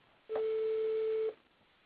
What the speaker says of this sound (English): that's the sound that's been produced by a sine wave, and the sine wave is that of A4. It's a pure sine wave.